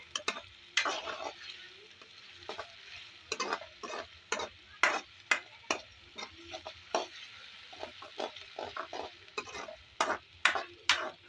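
Ginger garlic paste is stirred into a karahi for chicken koyla karahi, a spoon scraping and knocking against the pan in quick, irregular bursts over a faint sizzle, close and fairly loud, with no talking.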